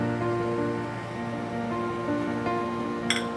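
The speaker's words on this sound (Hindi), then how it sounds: "मेरा पानी बॉयल हो गया है, गर्म हो गया मेरा पानी।" Water boils in a saucepan on the stove, a continuous, even bubbling rush heard up close, with a brief clink near the end.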